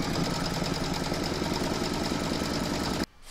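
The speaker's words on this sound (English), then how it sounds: "Pop your hoop back into your machine and stitch round number 18." Embroidery machine stitching a round of an in-the-hoop courthouse steps log cabin quilt block coaster, a loud steady rapid mechanical whirring and tapping that runs unbroken and then stops abruptly near the end.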